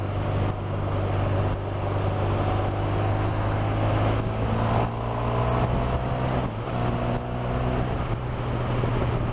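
A Honda Crosstourer motorcycle pulling hard on a country road, its engine tone climbing smoothly through the revs under a constant rush of wind, with no talking.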